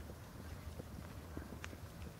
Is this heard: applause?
no